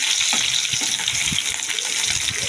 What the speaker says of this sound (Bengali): এবার আমি আলুটা দিয়ে একটু হালকা করে ভেজে নেব